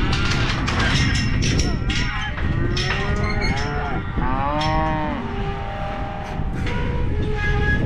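Cattle moo repeatedly and loudly at a farm gate, several overlapping calls from a nearby herd over a constant rumbling background.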